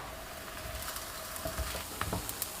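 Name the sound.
flatbread sizzling in a pan after flipping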